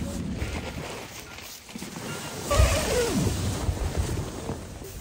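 Wind blows across a mountain summit on a cold early-winter night during a backpacking trip, a steady rushing roar that swells louder midway and stays close and continuous.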